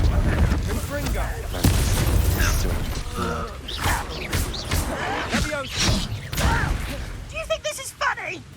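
A Confringo spell explosion in Hogwarts Legacy strikes inside a guarded mine, a loud boom with creaking, clanking mechanical debris, surrounded by game voices talking over the combat.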